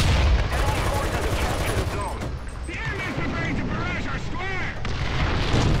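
Artillery fire in the War Thunder video game during squad play, heard as a dense, loud barrage of repeated booms and shell impacts with voices talking over it.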